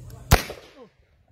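A single sharp shotgun blast from a Protecta 12 gauge buckshot load fired at a concealed Level IIIA ballistic vest during outdoor field testing, followed by a brief echoing decay and then quiet.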